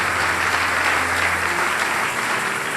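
A church congregation claps loudly and continuously, a dense, even wash of applause with no pauses.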